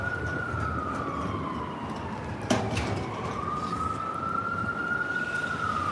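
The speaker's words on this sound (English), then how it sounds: "Sounds like an ambulance coming through." An ambulance siren wails, sliding down and back up in pitch as it passes close by amid steady street traffic noise on Fifth Avenue in Midtown Manhattan.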